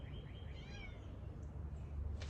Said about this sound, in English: A little kitty cat calling me in the window.